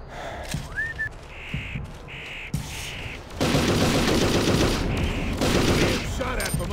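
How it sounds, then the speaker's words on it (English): Gunfire in the Xbox game Brute Force rattles out in bursts amid the game's noisy combat soundscape, with sustained dense shooting in the latter half and electronic beeps and tones layered over it. "Shot at from unknown location"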